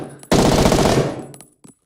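Vietnamese 7.62 rifle fired on the practice range in Rising Storm 2, a rapid full-auto burst of about a second at a fast cyclic rate, loud and close, followed by a brief mechanical click.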